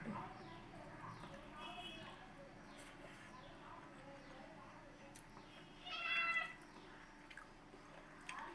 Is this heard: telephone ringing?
no